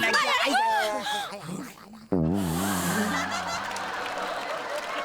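Squawking, honking fowl calls ring out, followed by a loud burst of agitated clucking and cackling, with voices and laughter-like sounds mixed in.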